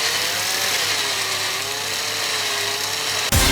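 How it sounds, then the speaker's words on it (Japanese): A steady, high-pitched whine of a power drill boring a hole in a Kamen Rider toy figure part during a custom modification, ending in a sharp sudden break at the end. "角度スロットの裏にあるぼっこりよりも少し細いドリルを選んで、"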